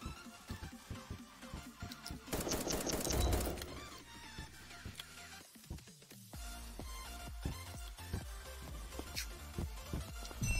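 Rapid gunfire from the blocky online shooter voxiom.io, with a dense burst of shots mixed into game music and effects, loud through the middle and then continuing in scattered clicks and pops.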